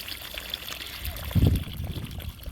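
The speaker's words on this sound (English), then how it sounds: "We're gonna put the hose on them for about the next 15 minutes and water them in really" A garden hose watering a newly planted Fat Albert spruce, a soft steady trickle rising into a brief louder gush of water pouring onto soil, close and outdoors.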